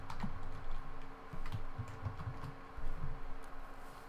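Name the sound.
typing Ruby code on a computer keyboard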